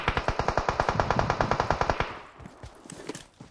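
Rapid automatic gunfire in PUBG Mobile on the Erangel map, a fast even burst of about twenty close, loud shots lasting two seconds, then scattered fainter shots and game noise.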